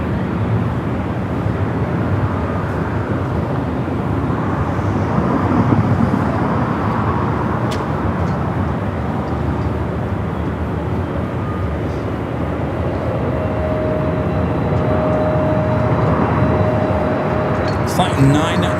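A Delta 767-300ER, 27 years old, at Los Angeles LAX on runway 24 left, a steady loud roar of jet engine and airport rumble held throughout, with radio voices over it.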